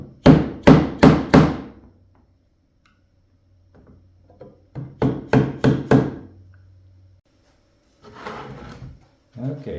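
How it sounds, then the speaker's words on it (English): Someone taps a screwdriver against the boards of an old oak table to make a registration mark, giving two quick bursts of four sharp knocks with a pause between them, followed by brief handling noise. "I'm going to make a registration mark with a screwdriver."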